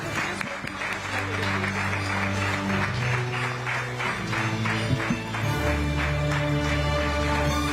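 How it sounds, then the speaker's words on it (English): Audience applause at an awards ceremony in Delhi for a wrestler's father, steady dense clapping under sustained music tones, with a voice briefly audible over it. "Huge round of applause, ladies and gentlemen."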